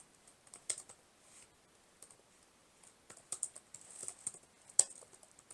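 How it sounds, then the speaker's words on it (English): Someone types on a computer keyboard with soft, irregular key clicks. Scattered taps speed up into denser bursts toward the end, close and fairly quiet, with no voices. "What am I typing?"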